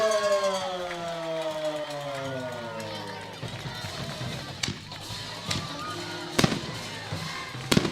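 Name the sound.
fireworks set off at high school football game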